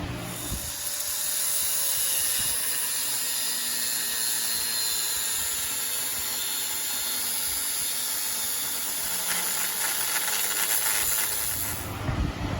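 Cutting tool grinding through stuck exhaust manifold nuts on a 5.9 Cummins 24V diesel engine, a steady loud hissing whine that runs continuously for most of the clip before cutting out near the end.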